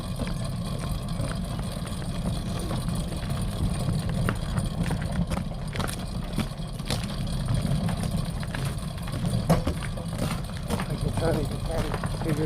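A 212 dirt bike engine runs steadily at a low, rumbling idle-like drone with a slipping clutch. Voices talk over it now and then.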